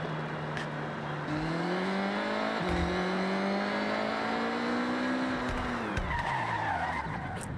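A Honda Integra Type R in Forza Horizon 6 online racing skids through a long slide, its engine note holding steady and rising with continuous tire noise before easing off near the end.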